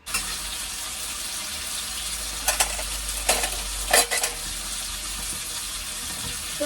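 Nigella seeds and fenugreek seeds sizzle as a tempering in hot oil in a home kitchen, giving a steady frying hiss broken by a few brief stirring clatters.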